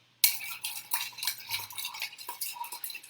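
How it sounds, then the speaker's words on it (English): A chopstick stirring lime juice into food for pea pesto crostini, giving a series of light scraping and clicking strokes against a dish, close and fairly quiet, with no talk. "Stir it out with the chopstick."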